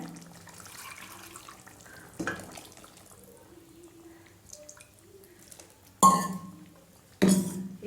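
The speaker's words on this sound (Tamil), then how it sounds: "தேவையான தண்ணி ஊற்றிக்கோங்க" Water splashes into a pot of tamarind curry in two short, loud pours, separated by quiet kitchen background.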